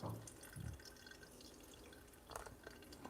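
Hot water for the bloom of a Hario V60 pour-over coffee trickles and drips faintly into the grounds in a soft, uneven patter, quiet and near, without speech.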